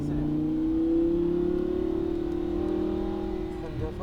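Lamborghini Huracan engine accelerating on a race circuit, a steady, loud rising drone with the pitch climbing gradually from start to finish, heard from inside or close by, with only a brief dip near the end.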